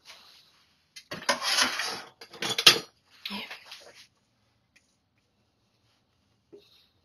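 A spatula scraping red velvet cake batter in a bowl, a few close bursts of scraping and clattering against the bowl separated by pauses, then near silence.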